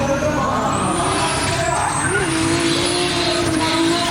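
A Toyota Aristo with a T51R-turbocharged 2JZ-GTE engine, nitrous and 1,000 horsepower at a competition event holds a loud, sustained engine howl whose pitch climbs slightly and then stays high.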